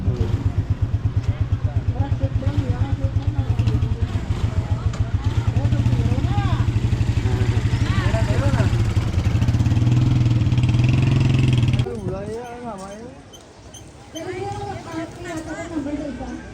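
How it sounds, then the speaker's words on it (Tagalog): Motorcycles ride past in a residential street at Deca Homes South Bacolod, their engines droning and revving close by, then fading, while people talk over them throughout. "sakay sila sa motor"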